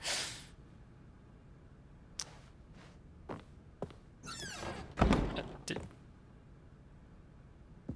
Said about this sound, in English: Door just closed itself.